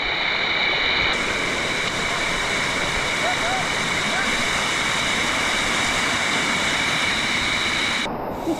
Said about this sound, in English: Just come across there in the waterfall, and now we're in the cave.